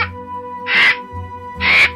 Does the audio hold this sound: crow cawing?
yes